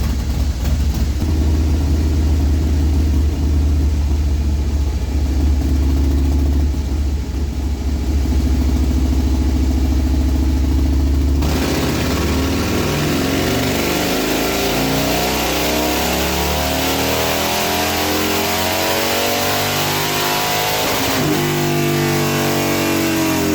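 A Harley-Davidson Fat Bob with a 128ci engine and a 2-1 exhaust pipe runs on a dyno, a loud, sustained V-twin roar that climbs through the revs, drops sharply midway, and then sweeps up again with a rising exhaust tone.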